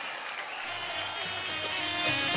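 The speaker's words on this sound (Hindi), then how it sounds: "मैं चाहता हूं एक बार जोरदार तालियां बजाएं" Steady, dense applause from an award show audience, a continuous broadband clatter of many hands at moderate level filling the whole moment with no voices over it.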